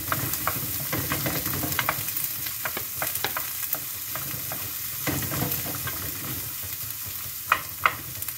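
Garlic and onion sautéing in olive oil in a pan, a steady soft sizzle with occasional stirring scrapes and a couple of sharper clicks near the end, close and moderately quiet with no talking.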